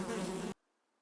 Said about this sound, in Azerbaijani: Bu səs arının səsidir.